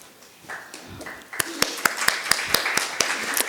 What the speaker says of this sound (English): A big round of applause for our esteemed speakers.